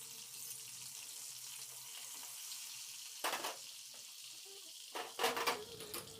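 Butter melting in hot white oil in a wok gives a soft, steady low sizzle, with a few brief louder crackling bursts near the end.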